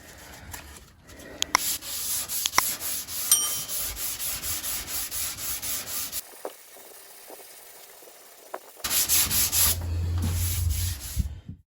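Body filler on a Jeep Patriot being hand-sanded with 240-grit paper: rapid, rhythmic back-and-forth rasping strokes up close, a short quiet pause, then another burst of scrubbing.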